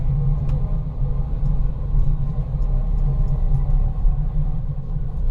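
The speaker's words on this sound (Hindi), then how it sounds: "अब ये गाड़ी बैक हो रही है।" A safari jeep reverses on a forest road at night in Jim Corbett National Park, giving off a steady low engine rumble that stays close and even throughout, with faint clicks above it.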